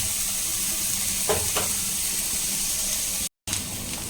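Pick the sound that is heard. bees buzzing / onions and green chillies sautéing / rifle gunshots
onions and green chillies sautéing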